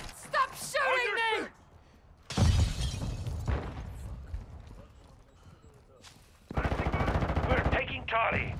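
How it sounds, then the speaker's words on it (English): Gunfire in Call of Duty: Modern Warfare II, a loud burst of rapid automatic shots near the start and another sustained stretch of fire later, with game voice lines and player talk around it. "Stop shooting me!"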